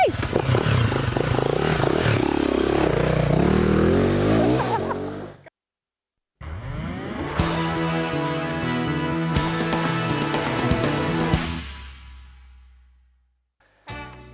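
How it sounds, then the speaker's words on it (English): A Vertemati motorcycle pulls away, its engine revving and rising in pitch, then falling silent briefly before music swells in and fades out. "And Stuart's going to get off on the Vertemati"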